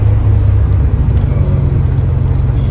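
Steady, loud low rumble of a 1982 Porsche 928 engine pulling up a hill in fifth gear at around 3,000 RPM, heard from inside the car with no talk.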